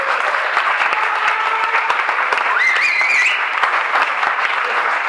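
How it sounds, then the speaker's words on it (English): An audience at the Letterheads 2024 event bursts into sustained, dense applause, a steady close roar of many hands clapping that holds evenly throughout, with a brief whistle rising through it midway. "If you give him a round of applause."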